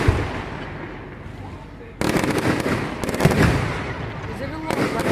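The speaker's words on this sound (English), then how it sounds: "The shells that come up real quick, they're also called mine shells." Fireworks show in Delaware City with mine shells bursting, heard as dense crackling and rapid popping volleys that swell suddenly and keep going, fairly loud, with voices of people in the crowd mixed in.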